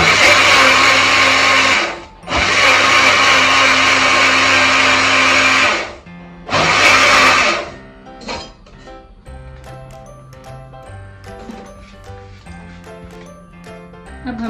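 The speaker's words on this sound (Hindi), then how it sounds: "ये डालकर फिर एक बार हम ग्राइंड कर लेंगे।" A mixer grinder blends mango milkshake with ice cream in loud whirring bursts, two long runs and a short third one, separated by brief pauses, followed by quieter clinks and faint kitchen sounds.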